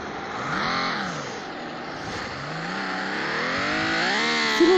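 A car engine in the video game Turbo Dismount revs up and down in several rising and falling sweeps, loud and close, climbing higher toward the end with no speech.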